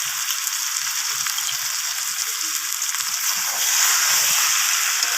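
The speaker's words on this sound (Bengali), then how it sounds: "ধনিয়া পাতাটা দিয়ে আবারও নাড়াচাড়া করে আমি কষিয়ে নিচ্ছি।" Chicken stir-fries with chopped coriander leaves in a hot pan, giving a dense, even hiss that sounds close and loud, with soft low stirring scrapes underneath.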